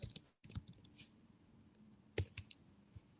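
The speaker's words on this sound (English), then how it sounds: "Let me just type my email address" Someone types an email address on a computer keyboard, producing quiet, close-up, irregular key clicks with a brief pause in the middle.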